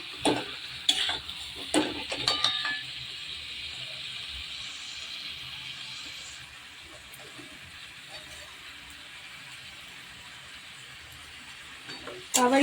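Potatoes and chicken being stirred in a pan for a village-style chicken kosha: a few clattering stirs at first, then a steady, moderate sizzle that fades somewhat before a final knock.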